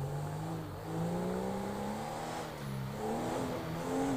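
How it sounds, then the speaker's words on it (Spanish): A failing car engine in a video game drones steadily throughout, its uneven hum rising and dipping in pitch like strained revving, with no talk over it. "escucho que el motor del coche está fallando"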